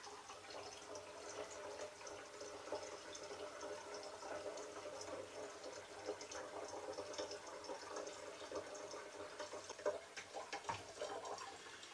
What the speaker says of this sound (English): I can now fill up the rest of the demijohn with normal bottled water. I'm pouring it straight over the tea bags.